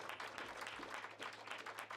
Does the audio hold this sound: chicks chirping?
no